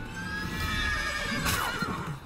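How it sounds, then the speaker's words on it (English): A horse in The Witcher 3: Wild Hunt video game whinnies loudly in a long, wavering neigh, with a faint hoof clop near the end over a steady background hum. "And I just got kicked by a damn horse."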